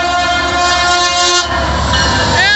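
BNSF freight locomotives 200 and 511 pass close on a local freight hauling cement, sounding a loud multi-chime train horn over rumbling, clattering rail cars.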